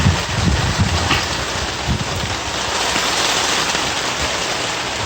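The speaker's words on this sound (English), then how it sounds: "The downpour." Heavy rain pours down during a sudden storm at an outdoor barbecue in Ontario, Canada, a dense, loud, steady hiss of water on surfaces with low gusty rumbles from wind on the microphone, no voices.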